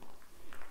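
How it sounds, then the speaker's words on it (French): Footsteps fall on a stone floor inside a castle, a few quick, soft steps under wind noise, fairly close and faint. "On entend bien quand c'est des bruits de pas."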